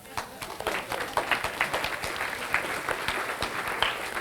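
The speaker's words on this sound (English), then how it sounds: "Let's give them a round of applause." Audience applause at a 1995 church variety show in Bridgewater, Massachusetts, a dense steady round of clapping from a crowd in a hall, fairly close and sustained.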